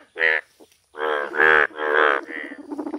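A frog croaks in several loud, drawn-out voiced calls, ending in a quicker run of pulsing croaks, close and clear with near-silent gaps between.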